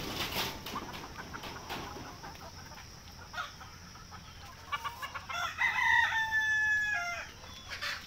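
Free-range desi chickens cluck around a low-cost backyard poultry farm, with a rooster crowing loudly nearby over scattered clucks and a faint outdoor background, no talk.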